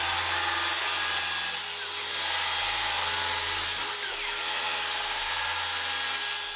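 A circular saw cuts wooden boards to length in two long, loud sustained passes, with a high whining buzz that swells slightly at each cut.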